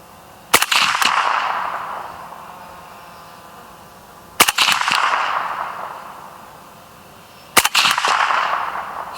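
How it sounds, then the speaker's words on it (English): Suppressed AK rifle firing at a steel target plate, three sharp close shots a few seconds apart, each a loud crack followed by a quick ringing hit and a long, slowly fading echo across an open range. "Still shooting a little bit low with the combat setting."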